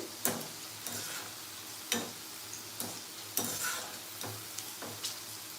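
Sliced okra frying in a pan for Telugu-style bendi fry, with a soft continuous sizzle broken by a spatula scraping and stirring roughly every second, close and moderately quiet.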